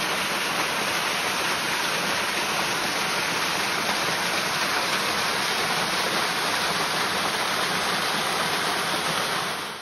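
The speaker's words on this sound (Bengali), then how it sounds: "সেই ওয়াটারফলের জলটাই কিন্তু বেয়ে বেয়ে নিচে এখানে এসেছে।" Waterfall runoff near Tiger's Nest pours down in a loud, steady rush of flowing water, a dense unbroken hiss that stays constant throughout with no voices.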